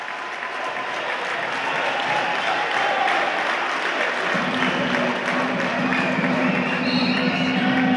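A basketball arena crowd at a Serie A2 game between Benacquista Latina and De' Longhi Treviso applauds a substituted player, with sustained loud clapping and cheering. A commentator talks over it while squeaks and a low hum join partway through.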